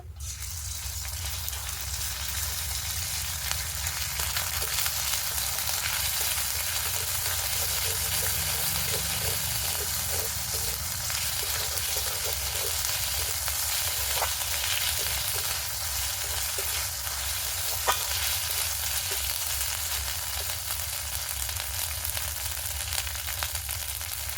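A soft, steady sizzle of ginger and cumin paste frying in hot oil, with occasional stirring scrapes, continuous and close.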